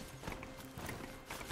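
Horse hooves clip-clop in the video game Horizon Zero Dawn, a quick, faint run of hoof beats mixed with light mechanical game sounds.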